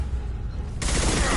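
Gunfire in Mass Effect 2, a dense rattling burst that cuts in abruptly partway through after a low rumbling battle background, loud and close.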